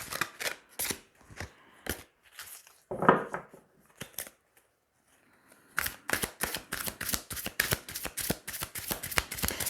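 Tarot cards being shuffled by hand for a reading, crisp riffling clicks in quick bursts, a short pause near the middle, then a dense run of rapid card snaps close by.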